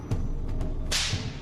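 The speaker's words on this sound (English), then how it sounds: "Richard administers 39 lashes of the scorpion." A scorpion whip lashes a pig carcass with a sharp hissing crack, preceded by a couple of quick swishes and soft thuds, close and loud with no voices.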